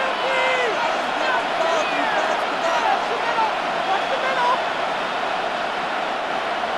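Dense stadium crowd noise from a simulated Madden NFL 26 football game between the New York Giants and Washington Commanders, a steady roaring swell of cheering throughout, with commentators talking over it.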